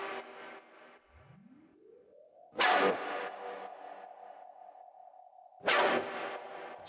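A synthesizer with a pumping reverb effect sounds two bright stabs about three seconds apart; between them a rising swell blooms into a sustained ringing tail that rhythmically breathes, clear and upfront with no talking.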